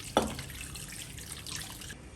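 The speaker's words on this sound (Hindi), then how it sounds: "इसको पानी में अच्छे से मिक्स कर लिया है। ये हम कढ़ाई में ऐड कर देंगे" Water mixed with ginger garlic paste is poured into a kadai, opening with a short splash followed by a soft, steady trickle and sizzle that runs briefly and then stops.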